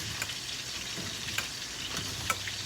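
Grits being stirred in a hot pot on the stove, a soft continuous bubbling hiss broken by a few light scrapes of a spoon, close and steady with no talking.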